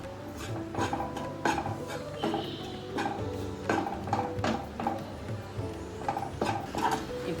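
Thattai flour mixture being stirred and roasted in a pan, with repeated scraping strokes and light clinks of the spoon against the metal in an irregular rhythm, moderately close and steady throughout.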